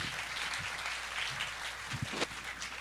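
An audience applauding at a panel discussion on artificial intelligence, with a dense, steady clapping that carries on throughout at moderate volume.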